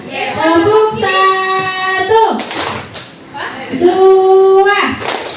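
A group of children in a classroom clap together in a rhythmic counting game, a burst of hand claps between children's voices calling out loudly.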